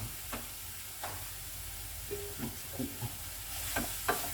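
Sliced leeks sizzle gently in a pan, with a steady frying hiss under a few stirring scrapes and taps of a utensil, close and moderately quiet, no voices.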